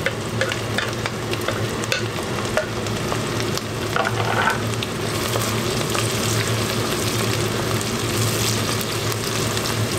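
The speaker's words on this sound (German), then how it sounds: "Ganz einfach, schön Zwiebeln anbraten in Olivenöl." Onions and garlic frying in olive oil in a pan, a steady close sizzle with stirring and scraping clicks throughout, no talking.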